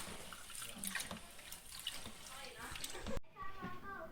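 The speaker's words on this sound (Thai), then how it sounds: "ล้างข้าวเหนียวก่อนค่ะก่อน จะเอาข้าวเหนียวไปแช่เนาะก็ล้างให้สะอาดก่อนค่ะ" Sticky rice is rinsed in water in a sink, with sloshing and trickling splashes up close while someone talks over it, then a tap-like rush briefly cuts out and the swishing resumes more faintly.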